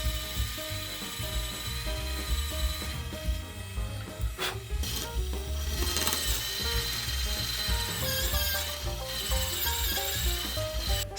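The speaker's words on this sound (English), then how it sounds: "I'm going to drill a hole in this." A power drill bores a hole through a twig for a diorama, producing a continuous whirring, grinding buzz with several brief louder bursts as the bit bites into the wood, heard up close.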